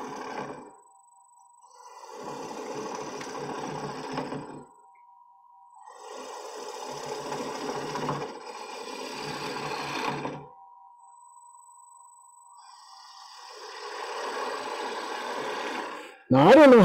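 A wood lathe turns while a cowboy hat bowl is hollowed out, with bursts of rough cutting noise alternating with the steady hum of the spinning lathe, close and fairly loud.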